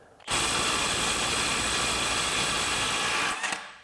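A cordless impact wrench hammers steadily and loudly for about three seconds while breaking a seized bolt free, then stops abruptly.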